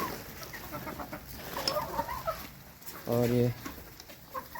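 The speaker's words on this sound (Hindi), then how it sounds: "सारे मुर्गे मुर्गियाँ इस टाइम पर बढ़िया हो रहे हैं" Chickens and roosters on a farm cluck and cackle at feeding time, a busy overlapping chorus with one louder, close call standing out, while someone talks over the flock.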